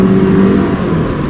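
A Subaru Forester Sport pulls hard out of an S-bend, its engine note droning loud and steady in the cabin with a smooth rising whir and no talking.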